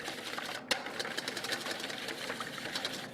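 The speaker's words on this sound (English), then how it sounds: "we're going to whisk those up" Two eggs are whisked briskly in a bowl, producing a rapid, even stream of light clicking taps that runs close and continuous for a few seconds, with no talk.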